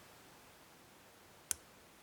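One light, sharp click of a lock pin being picked in a Bonito Lips Octro lock stands alone against near silence, brief and close.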